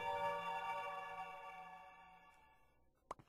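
Eerie ambient music from the Minecraft modpack JazziCraft: a sustained, harmonically rich tone that slowly fades over about three seconds, followed by a brief, sharper accent near the end. No talk over it.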